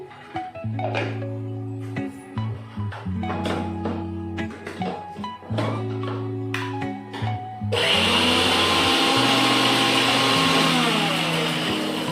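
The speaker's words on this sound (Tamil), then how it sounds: "அதுக்குள்ளேயும் அந்த தேங்காய் சோம்பை அரைச்சிட்டு வந்துடலாம்" A kitchen mixer grinder blitzing grated coconut with fennel seeds kicks in partway through as a loud, steady whirring roar, after a stretch of quieter, pitched tones.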